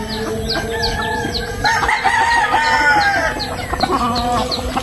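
Backyard chickens on a Philippine farm clucking close by, with a rooster's drawn-out crow rising over them in the middle and faint bird chirps in the background.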